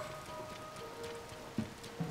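Quiet rain falls steadily in Zelda: Tears of the Kingdom, a soft continuous patter on surfaces with a couple of slightly louder drops near the end.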